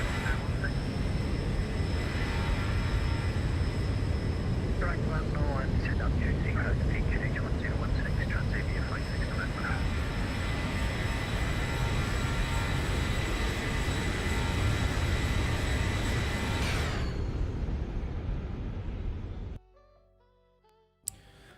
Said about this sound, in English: And how beautiful does this aircraft sound?